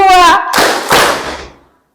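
Pupils in a classroom clap together in two loud, close bursts right after a voice, the second burst fading out into silence.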